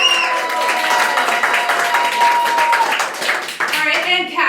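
Applause with cheering from a live show audience voting by noise level, loud at first and tapering toward the end, with a voice and tones cutting in near the close.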